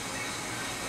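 A subway train rumbles in a cold underground station, a short, low, steady roar heard from a moderate distance.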